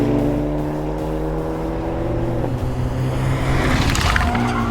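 A 2022 Hyundai i30 Sedan N engine and exhaust under load while driving, a loud rising drone that climbs in pitch, then drops sharply around a gear change before building again; no speech.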